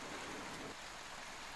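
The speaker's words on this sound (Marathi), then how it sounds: "सिंधुदुर्ग जिल्ह्यात सकाळपासून मान्सूनपूर्व पावसाला सुरुवात झाली आहे." Pre-monsoon rain in Sindhudurg district, Maharashtra, a steady wash of falling rain hissing on surfaces without a break, fairly quiet and continuous.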